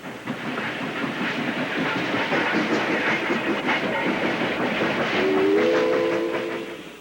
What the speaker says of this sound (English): The steam train leaves Tye River.